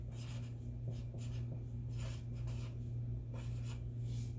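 A sentence is written by hand, a soft, continuous scratching of pen or pencil on paper in short repeated strokes over a steady low hum, close and quiet.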